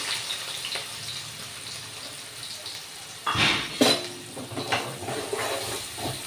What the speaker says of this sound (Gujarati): હવે આપણે ડુંગળીને તેલમાં સારી રીતે સોતળી નાખશું.